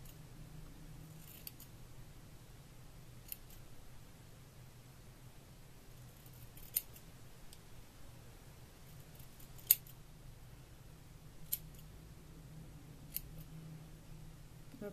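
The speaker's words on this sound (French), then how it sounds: "Je coupe droit et seulement après je fais des petites entailles dedans." Scissors cutting hair, first straight across and then small notches: about half a dozen crisp, isolated snips spaced a second or two apart against near-silence.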